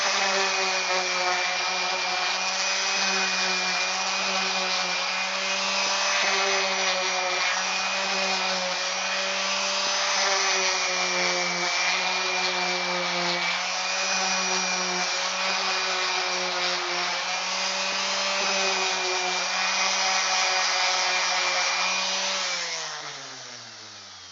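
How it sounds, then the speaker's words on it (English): A power sander works over the outside of a wooden bluebird house, giving a steady loud whine that holds for over twenty seconds before winding down at the end. "this is the point where I sand the outside"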